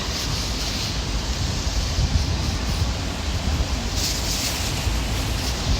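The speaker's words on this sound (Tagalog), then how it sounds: "Biglang lumakas yung hangin." Strong, steady wind rushes and buffets the microphone, a dense roar that swells slightly near the end with no clear breaks.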